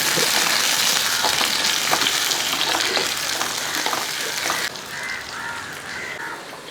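Green chillies and curry leaves crackle and sizzle loudly in hot oil as a Kerala-style tempering for mango pachadi, a steady close frying hiss that softens slightly near the end, with no voices.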